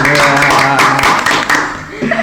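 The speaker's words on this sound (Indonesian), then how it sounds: "Tepuk tangan deh." A few people clap briefly during a casual school-themed podcast chat, quick close claps blended with talking and light laughter throughout.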